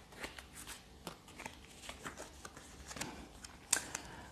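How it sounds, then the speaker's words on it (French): Oracle cards being drawn and shuffled on a table, a run of soft papery flicks and slaps close to the microphone, with one sharper snap near the end. "je tire un peu les cartes de l'oracle G."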